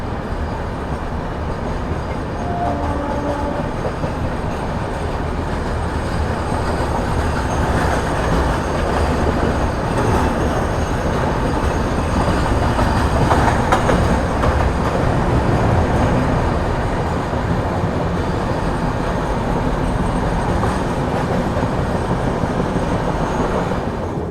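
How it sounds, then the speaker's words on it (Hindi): Goods train rolling past on a parallel track, a sustained, loud rumble of wagons and wheels with rail clatter and faint squeal, steady throughout with no talk. "कानपुर को बाईपास करते हुए निकल जाएगी ये पैरेलल में गुड्स ट्रेन।"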